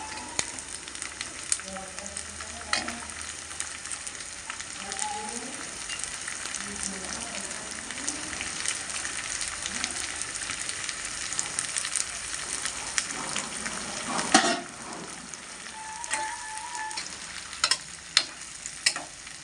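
Chopped ivy gourd pieces frying in a pan for a peanut stir-fry, a steady close crackling sizzle with repeated spatula stirs and scrapes, and a few sharper knocks near the end.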